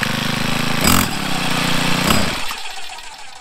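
A small gasoline engine runs unevenly with the choke off, buzzing loudly close by, surging twice, then sputtering and dying away toward the end.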